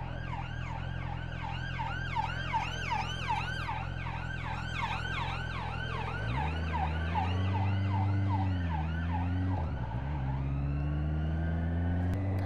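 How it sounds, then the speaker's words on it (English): Wailing sirens rise and fall over and over, loud and close, over a rumbling engine that shifts pitch as a vehicle moves. "She says sirens."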